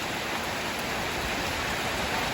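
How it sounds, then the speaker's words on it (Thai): Rain falls steadily around a dense, evergreen Bunnak tree, a loud, even hiss of drops that goes on without any break or voice. "อันนี้ฝนตกก็เลย"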